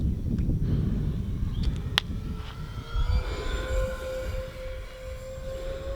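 An E-Flite Twin Otter RC airplane on its maiden flight, with a steady electric whine rising and falling as it passes, and a faint low rumble of wind beneath.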